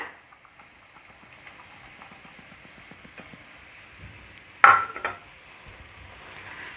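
Cooked rice is stirred into tomato gravy in a pan with a spoon, making soft, quiet scraping and tapping. A louder metallic clatter comes near the end, followed by a faint sizzle.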